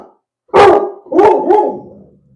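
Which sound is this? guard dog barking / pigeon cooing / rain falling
guard dog barking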